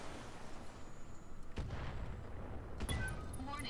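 Gunfire in the game Roguepoint, a dense rumbling barrage with sharp cracks and a few high-pitched electronic tones near the end, under steady background noise.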